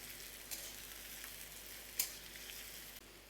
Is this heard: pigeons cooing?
no